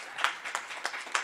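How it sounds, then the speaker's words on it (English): Brief clapping at an elevator pitch contest: a few evenly spaced, fairly crisp claps over a thin wash of scattered hands. "can we get another round of applause for Paul?"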